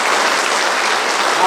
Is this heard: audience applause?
yes